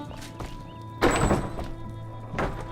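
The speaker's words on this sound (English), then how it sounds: "Shut the door so the wolves don't get in and the cat don't get out." A wooden door thumps shut in the game Enshrouded, one solid close knock followed by a softer second thud moments later.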